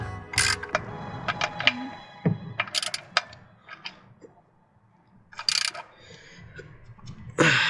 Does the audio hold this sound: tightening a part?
yes